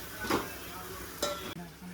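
Bachelor-style chicken curry fries in a pan with a steady hiss, while a utensil scrapes and stirs in a couple of brief bursts, close and quiet.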